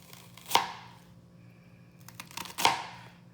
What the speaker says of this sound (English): So I'm just gonna cut some big slices here.